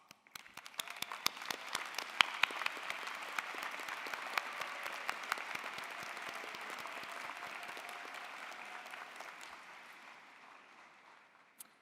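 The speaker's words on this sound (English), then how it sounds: "Would all of our student organization leaders and representatives please rise for a round of applause?" Applause at a university commencement for standing student leaders, starting with a few scattered claps, swelling into full, moderately distant clapping, then tapering off near the end.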